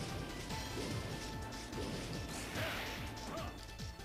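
An object breaking in the Mega Man ZX Legacy game, with a crash and smashing hits layered over busy game music and effects.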